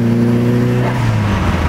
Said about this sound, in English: what do you guys know about that Forge blow off valve